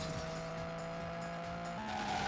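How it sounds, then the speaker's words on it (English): Gran Turismo 3 race car in a video game, its engine holding a steady droning tone with a faint tire squeal layered over it, continuous and close. "Car sounds like it's from Driver."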